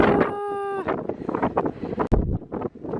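Strong wind on the Ha Ling mountain summit buffets the microphone in rough, gusting blasts, with a brief high tone at the start.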